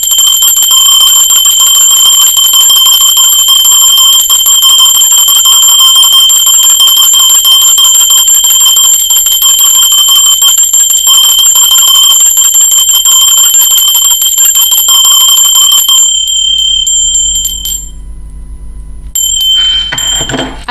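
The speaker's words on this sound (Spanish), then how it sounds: "va campana" A bell rings in a loud, sustained, bright ringing tone for about sixteen seconds, then cuts off abruptly, leaving quieter scattered sounds.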